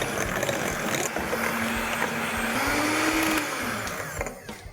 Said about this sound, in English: Blend it all in with your hand mixer.